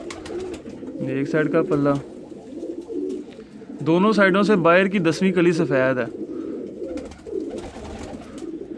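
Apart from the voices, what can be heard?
pigeon cooing while handled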